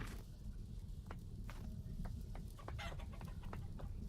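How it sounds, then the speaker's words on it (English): Chickens clucking in the snow in the game Vintage Story, several short clucks and chirps at a moderate distance over a steady low background rumble. "it's a chicken. A chicken in the snow."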